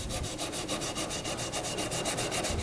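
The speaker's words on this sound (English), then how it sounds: "Now that my bowl is bone dry, I'm going to sand away all these burrs" Steady dry rubbing and scraping with a regular back-and-forth rhythm, close up and continuous, as a light sanding pad is worked over a bone-dry fluted clay bowl to remove burrs.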